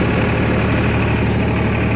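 Massey Ferguson 5245 tractor pulling a trolley load, its diesel engine running hard with a hydraulic problem: a steady, loud, low droning rumble throughout, with no talk.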